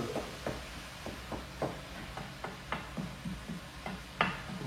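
Minced meat fries in a pan over high heat for bolognese sauce, a soft steady sizzle broken by regular scraping stir strokes about twice a second.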